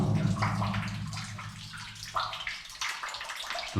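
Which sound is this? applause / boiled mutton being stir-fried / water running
water running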